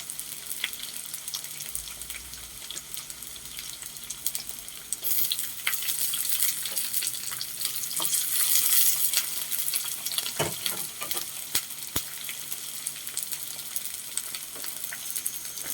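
Katla fish curry masala sizzling in pure Malabar coconut oil, a steady frying hiss with scraping stir strokes and sharp clacks, swelling louder midway, no talk.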